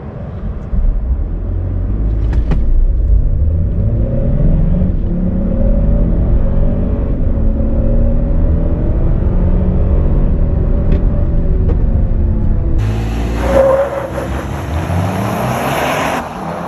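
A 2023 Toyota Tundra full-size pickup accelerates from 0 to 60, its engine note rising steadily through the gears as a loud, continuous rumble heard from inside the cab, with a louder broadband whoosh near the end.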